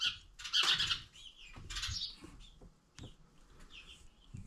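Several birds squawk and screech in harsh bursts nearby, with scratchy rustling between calls, uneven and fairly faint overall.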